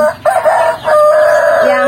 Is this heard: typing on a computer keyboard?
no